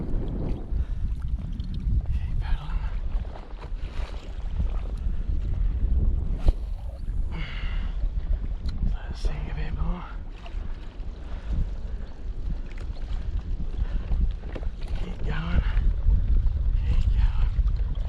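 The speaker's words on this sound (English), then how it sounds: "Keep paddling." Kayak paddling offshore on the open sea while fishing, soft splashing strokes under constant wind buffeting the microphone and lapping water, with a few brief voices.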